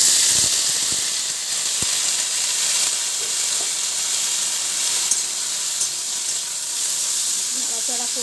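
Potato pieces dropped into hot oil already crackling with black cumin (nigella) for aloo posto, giving a steady close sizzling hiss throughout, with a voice briefly heard near the end.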